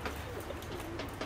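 Pigeons coo softly in the background during gusty wind, a few faint low coos under a steady rushing wind noise, brief and distant.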